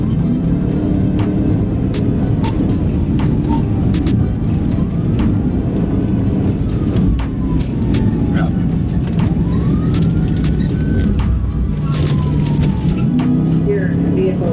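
A police car siren wails in rising and falling sweeps during a high-speed chase topping 100 miles per hour, sounding steadily beneath constant road and engine noise and a voice talking throughout.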